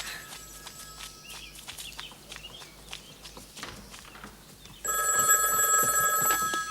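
An old-style telephone bell rings in a steady electronic trill, entering loud and close partway through after quieter footsteps and room movement, then continuing unbroken.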